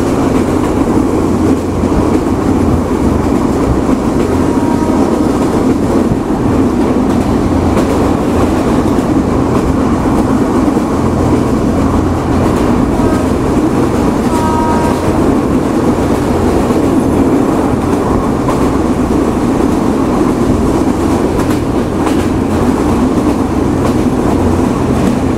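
Madhumati Express running on rails with LHB coaches, a steady, loud rumble of wheels and carriages rolling continuously with faint rhythmic clatter throughout, no voices.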